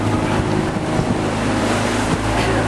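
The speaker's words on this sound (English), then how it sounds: "a one-way ride on that service called the Rio Taxi" A Rio Taxi river boat motors past on the Riverwalk at dusk, a loud steady engine drone with water wash and wind rumble on the microphone, no talking.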